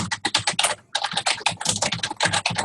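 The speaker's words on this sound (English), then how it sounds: "Your keyboard's killing me." Fast, steady typing on a computer keyboard during a Zoom class call, close and clattery, with dense irregular keystrokes and one brief pause.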